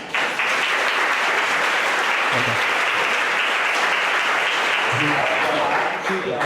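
Sustained audience applause at an inaugural graduate statistics lecture, dense and loud throughout, with faint voices briefly audible beneath it.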